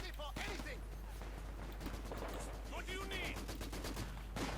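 A Vickers machine gun fires in a Company of Heroes 2 battle, giving quick rhythmic bursts of sharp rapid shots amid other gunfire, with in-game voices and effects mixed in.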